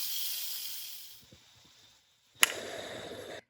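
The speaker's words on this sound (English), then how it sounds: "So I'm just gonna press my release valve, let all that steam out" Steam hissing out of an Instant Pot release valve in a steady rush, cutting off briefly, then bursting back with a sharp start and continuing before stopping abruptly.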